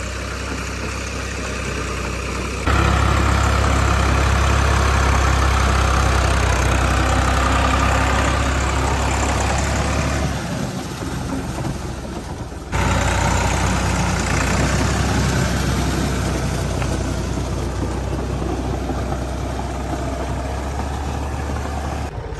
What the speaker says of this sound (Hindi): चाचू जान के खेत में कद करने के लिए गया हुआ था ट्रैक्टर, अभी फिर हमारे खेत में इंटर हो गया